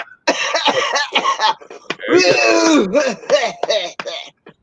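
A person coughs and hacks repeatedly in harsh, raspy bursts, close and loud, with throaty groaning sounds mixed between the coughs.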